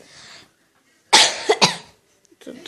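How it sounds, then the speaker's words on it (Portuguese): Two or three sharp, harsh coughs from a boy burst out close to the mic after a moment of quiet, followed by faint breathy sounds. "Tô tossindo."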